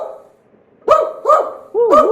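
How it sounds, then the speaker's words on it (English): A dog barks three times in quick succession, loud and close, each bark sharp and short after a brief quiet start. "this is a dog bark with videos"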